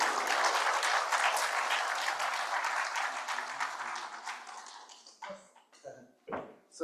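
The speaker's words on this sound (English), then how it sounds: "please give Nita a big round of applause for putting this together." Crowd at the IMPACT CMO 40 under 40 awards event claps loudly and densely, then the applause thins and fades out, leaving a few scattered claps and brief clatter near the end.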